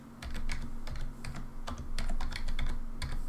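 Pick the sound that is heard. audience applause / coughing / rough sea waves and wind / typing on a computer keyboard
typing on a computer keyboard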